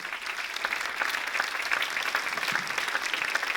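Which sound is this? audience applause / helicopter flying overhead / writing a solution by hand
audience applause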